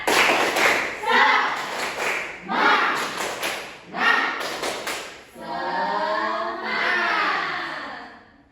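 A classroom of children performs the Indonesian 'tepuk semangat' clap chant, with bursts of rhythmic group clapping mixed with loud chanted voices, close and lively.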